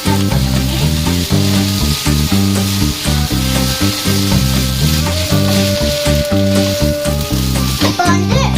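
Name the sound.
noodles with pepper being stir-fried and mixed in pan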